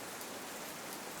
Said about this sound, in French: On ne s'est pas fait épargner la pluie cette fois.